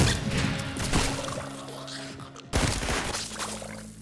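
A gas grenade going off in the shooter game Trepang2, a loud, dense burst of popping and rushing hiss that fills the mix, followed by a second surge of spraying noise with steady tones running underneath.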